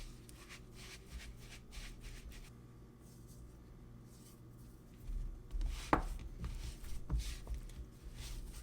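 Honey whole-wheat dinner roll dough gets worked together with a spatula as flour is folded in, giving soft, close scraping and squishing strokes that build to a few firmer thumps toward the end.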